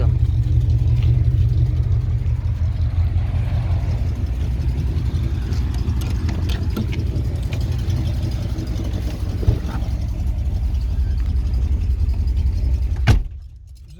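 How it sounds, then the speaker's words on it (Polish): A 1971 Oldsmobile Ninety Eight V8 idles close by with a steady, deep rumble that continues for about thirteen seconds, then a sharp click and the sound cuts off. "Trzeba posłuchać jak brzmi. V8"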